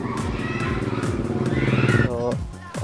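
A motorcycle engine putters along a rural road near a waterfall, its rhythmic low pulse steady and close, briefly dropping away near the end as the ride slows.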